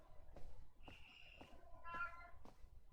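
A cat in the adventure game Broken Sword gives a few short, faint meows separated by quiet pauses, set against soft game ambience.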